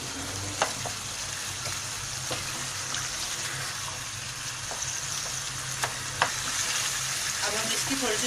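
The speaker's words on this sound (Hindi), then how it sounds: "अब हम इसकी थोड़ी सी भुनाई करेंगे।" Beef stew fries in a pot with a soft, steady sizzle while it is stirred, and occasional light clinks of a spoon against the pot stand out over the quiet bubbling.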